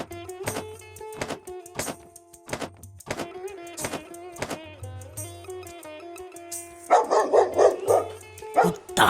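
A cartoon dog barks in quick repeated bursts, the yaps loud and close over background music, with a voice joining near the end.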